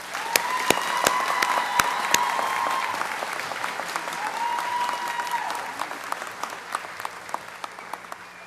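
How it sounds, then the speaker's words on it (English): An audience at a county academy awards ceremony bursts into sustained applause for the Culinary Arts Student of the Year. The dense clapping swells and then slowly thins, with a few cheers or whistles over it and scattered individual claps at the end. "please give a round of applause for the 2018-19 Academy Culinary Arts Student of the Year, Ms. Katie Filson."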